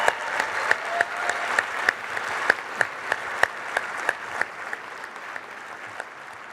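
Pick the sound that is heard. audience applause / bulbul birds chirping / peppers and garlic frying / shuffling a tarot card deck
audience applause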